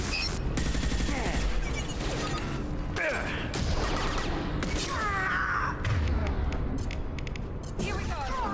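Gunfire in Mass Effect 2 crackles through a busy combat mix with bursts of shots, mechanical clanks and effects layered under game voices, steady and dense throughout.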